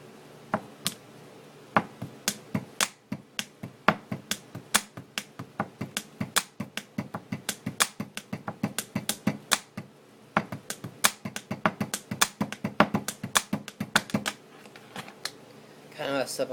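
A pen drums a long, fast beat on a desktop. Dense, crisp clicks and knocks come in quick bursts for about sixteen seconds, close and clear, with a slight stumble in the pattern.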